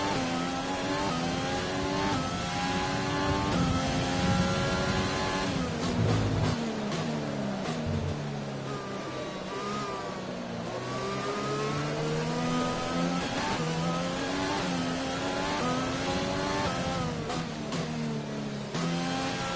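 Formula 1 car engine in the F1 2020 racing game, a loud continuous high-pitched whine rising and falling through rapid gear shifts as the car accelerates, with no talk over it.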